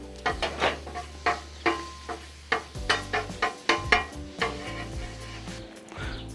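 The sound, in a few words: butter spread and sizzling on Blackstone griddle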